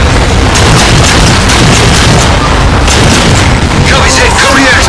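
A Pelican dropship is hit in a Halo game scene, setting off a massive, loud explosive boom that fills the whole stretch with roaring blast noise and rumbling debris, with voices talking through it.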